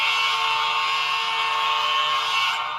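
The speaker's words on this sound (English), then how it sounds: "We've got our beautiful horn recording." A locomotive horn recording from an N scale Dash 8 model's sound module gives a steady, loud tone with rich stacked harmonics without a break for a few seconds, then fades slightly at the end.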